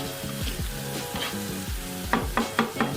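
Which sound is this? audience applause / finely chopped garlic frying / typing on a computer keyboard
finely chopped garlic frying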